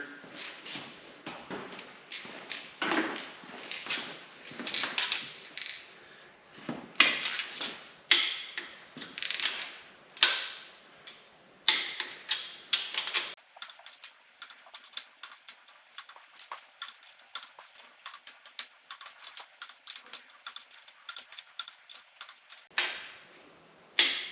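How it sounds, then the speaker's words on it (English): Rapid, crisp metallic clicks from a torque wrench tightening main cap bolts on a 406 small-block Chevy crankshaft, coming in quick ratcheting bursts with short pauses, close and fairly loud with no talking. "Okay, so now we have them torqued down to 40."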